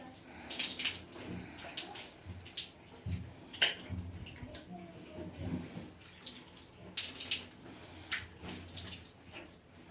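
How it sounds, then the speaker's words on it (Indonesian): Water running from a tap during wudhu ablution, a steady splashing stream broken by hands rubbing and splashing under the flow, with occasional speech. "seperti itu praktek wudhu menggunakan keran"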